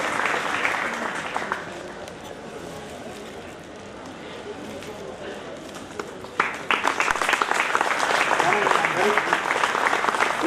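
Audience applause at a retirement function: a steady patter of clapping that swells louder and denser about two-thirds of the way through, with voices mixed in underneath.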